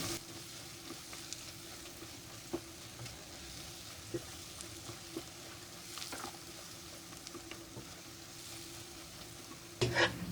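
Crushed almonds and pistachios being stirred into desi ghee halwa in a pan, a faint, continuous sizzle with soft scraping strokes and occasional light taps, no voices.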